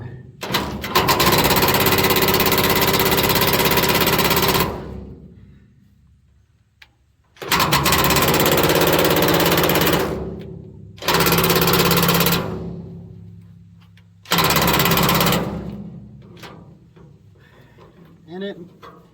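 A loud power tool rattles in several long bursts with short pauses between them, a harsh rapid hammering close by, knocking rust off a car trailer's leaf spring parts.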